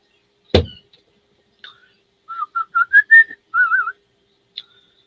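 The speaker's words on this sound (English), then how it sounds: "it's got a whistle. Goes very loud, actually." A hand whistle blown loudly and close by: a handful of short, clipped tones followed by a longer warbling trill, with a sharp knock just before and near silence around it.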